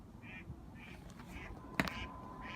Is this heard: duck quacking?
yes